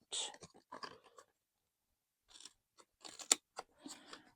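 Scissors snipping through a small cardboard box, a few separate crunchy cuts in short bursts with pauses between, close and quiet.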